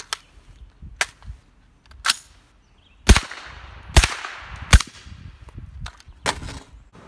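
A suppressed 300 AAC Blackout rifle firing 220-grain subsonic ammunition outdoors, a string of sharp muted cracks at irregular intervals with a few louder reports, each followed by brief decay and no talking.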